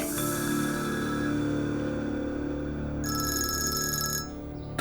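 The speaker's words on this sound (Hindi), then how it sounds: "तुम्हारे बाबा का फोन है," A telephone rings as a steady electronic ringtone with a tonal trill that comes in late over a constant background hum, sounding fairly close and without any voices.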